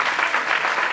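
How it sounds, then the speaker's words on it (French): An audience at a seminar on management and excellence gives a short burst of dense, even clapping, lasting only about a second. "applaudissements."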